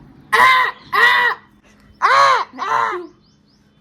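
A human voice imitates a crow cawing: four loud, close, harsh caws delivered in two pairs, each a drawn-out nasal squawk with short gaps between.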